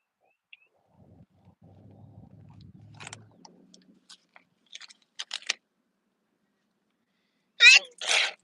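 A person lets out two loud, sharp sneezes close to the microphone near the end, after faint chewing and mouth sounds in a quiet room.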